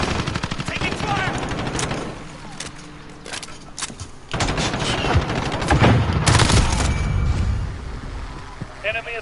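Video game gunfire in a shooter match, with bursts of automatic weapon fire and scattered shots crackling loudly in repeated volleys over several seconds, while a player speaks over the action.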